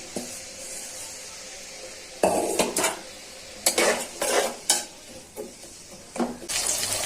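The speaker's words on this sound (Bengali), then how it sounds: "এখন গরম তেলে পেঁয়াজটা ভেজে নিচ্ছি।" Pots and utensils clatter and stir in a home kitchen while onion fries in hot oil for a mixed winter vegetable fry, with soft sizzling beneath irregular close scraping and clanking bursts.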